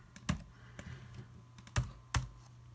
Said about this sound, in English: type that in, just hit enter